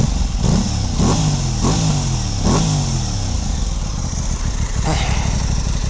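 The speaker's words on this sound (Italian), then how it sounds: "Sentiamo un po' il sound dello scarico" An Aprilia Tuono 660 motorcycle exhaust blips loudly up close, revving about four times in quick succession, each rev rising then dropping back to a rumbling idle, followed by a final lighter blip.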